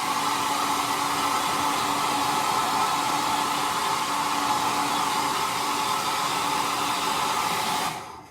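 A hair dryer blows over fresh paint on a reverse-stenciled sign, a loud, steady close whooshing roar with a tonal hum, running evenly and then cutting off abruptly at the end.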